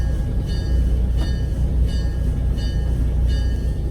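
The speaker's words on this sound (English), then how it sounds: "Please wait for the train to come to a stop." A tourist train rolling slowly into the Chattanooga depot on a Tennessee train ride, loud continuous low rumble of wheels on rail with rhythmic clacks at regular intervals and a faint high squeal, no talk.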